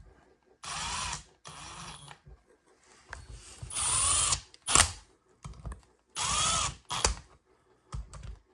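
A power drill drives the four bolts from a kit into place during a 6.0 Powerstroke 9-blade turbo conversion, running in several short whirring bursts with brief pauses between them, close and fairly loud.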